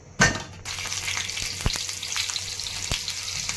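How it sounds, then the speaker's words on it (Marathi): Onion, tomato, ginger and garlic hit hot oil in a pan for dum aloo, bursting into a loud, close sizzle that holds steady, with a few sharp knocks of stirring. "आता तेल टाकून कांदा टोमॅटो अद्रक लसूण हे भाजून घेणार आहे"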